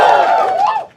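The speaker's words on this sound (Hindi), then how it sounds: "But जोर तालियां for Karan Aujla, man." A studio audience on the comedy show India's Got Latent cheers for Karan Aujla, a loud, close whoop of voices that holds for about a second and then drops away.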